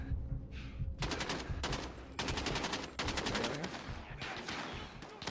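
Rapid automatic gunfire rattles in Call of Duty Modern Warfare in repeated loud bursts, some close and some farther off, with a brief pause between volleys.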